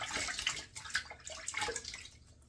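Warm water from a bathroom sink splashed onto a face before shaving, a few close wet splashes and dripping bursts in uneven rhythm, fairly quiet.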